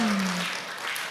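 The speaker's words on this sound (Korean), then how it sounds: "박수!" An audience at a lecture breaks into brief applause, a dense wash of many hands clapping together that fades slightly toward the end.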